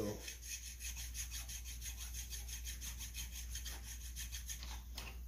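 A small stone rubs back and forth over a gasket surface clamped to a table, making steady, rhythmic scraping strokes that continue close and evenly throughout.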